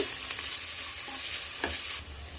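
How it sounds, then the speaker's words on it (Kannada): Ginger garlic paste frying in a hot pan, a loud, close, continuous sizzle with a few stirring scrapes before it quiets near the end. "ಶುಂಠಿ ಬೆಳ್ಳುಳ್ಳಿ ಪೇಸ್ಟ್ 1 ಸ್ಪೂನ್ ಹಾಕ್ಕೊಂಡು ಅದು ಅಷ್ಟೇ ಹಸಿ ವಾಸನೆ ಹೋಗೋ ಗಂಟ ಚೆನ್ನಾಗಿ ಫ್ರೈ ಮಾಡ್ಕೊಳ್ಳೋಣ"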